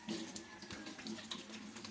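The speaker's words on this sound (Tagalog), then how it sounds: "Hugasan muna natin mga talong" Tap water runs steadily over eggplants being washed in a sink, a continuous close splashing hiss with small bumps of handling and no talk.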